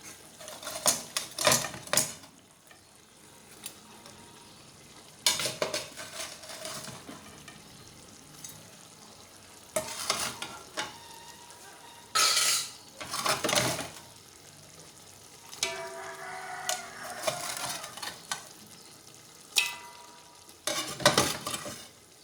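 Fish stirred into a simmering peanut sauce in a pot, heard as a low, bubbling simmer punctuated by bursts of spoon scraping and clanking against the pot at irregular intervals.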